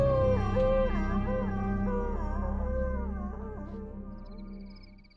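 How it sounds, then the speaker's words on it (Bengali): A dog howls with a drawn-out, crying, wavering wail, rising and falling in pitch over a steady low drone, close and loud for several seconds before fading. "বাইরে খোকস কুকুরটা কান্নার মতো একটা আওয়াজ করে ডেকে উঠল।"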